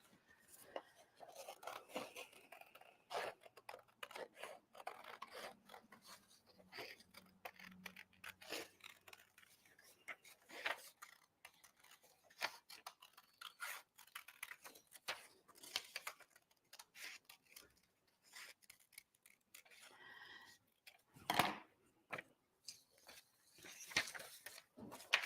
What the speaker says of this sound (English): So I'm going to go ahead with paper,